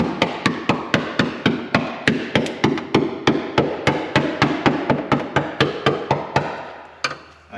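An awl tapping and jabbing a rusty floor pan on a 1965 Mustang convertible, a fast series of about two dozen sharp metallic knocks close up, evenly spaced, with no talk.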